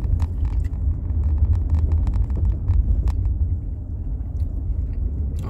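Car driving in West Hollywood, a steady low engine and road rumble heard from inside the cabin, with scattered small clicks and taps over it and no talking.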